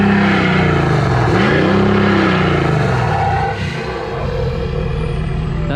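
Diesel engine of a USSV Rhino GX armored SUV revving loudly and continuously nearby, with rising and falling pitch sweeps as the throttle is blipped, steady rumble throughout without speech.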